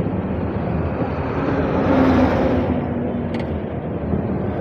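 Road traffic heard from inside a moving vehicle, a loud, continuous engine and road rumble that swells a little midway.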